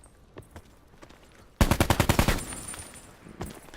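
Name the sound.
gunshots in the video game Call of Duty Black Ops 4 Blackout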